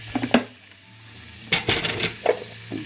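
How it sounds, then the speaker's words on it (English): Two tablespoons of butter sizzle in a hot pan while making beef stroganoff, with a steady soft frying hiss broken by a few sharper crackling bursts and spits close by, and no talking. "Now we add 2 tablespoons of butter."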